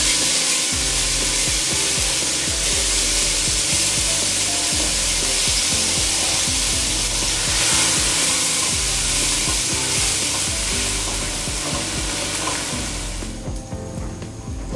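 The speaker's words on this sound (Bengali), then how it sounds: "ওই পাশের চুলোতে ঢেঁড়স ভাজি হচ্ছে" Okra fries in oil on a kitchen stove, making a continuous loud hiss and sizzle close by with a low background hum. The sizzle thins out toward the end.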